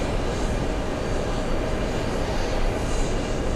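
A large jet airliner landing at JFK airport roars with a loud, steady broadband rumble that holds constant throughout, with no voices.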